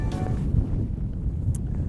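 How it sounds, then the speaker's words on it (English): Strong outdoor wind buffets the microphone in a steady, low rumbling roar for two seconds, with gusty swells and no speech, on a day of shooting at padlocks. "it's getting real windy out right now"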